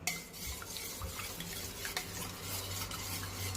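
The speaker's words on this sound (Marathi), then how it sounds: "दही लावलेल्या भांड्यात दूध टाकलेलं आहे आणि सारखं त्याला असं छान मिक्स करून घ्यायचं आहे।" Milk poured into a pot coated with curd being stirred, soft repeated swirling and scraping of a spoon against the vessel, quiet and close with a few light clinks, no voices.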